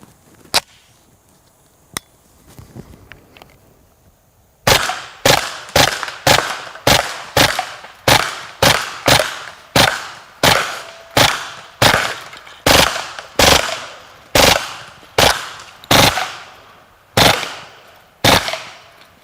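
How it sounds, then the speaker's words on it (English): Kriss Vector submachine gun firing Plus P, ball and incendiary ammunition: a few isolated shots, then a steady run of loud, sharp reports in quick succession, each ringing out briefly, with no talk. "you can actually hear the difference in the rate of fire between the Plus P ammunition and some of the regular ball ammunition versus incendiary"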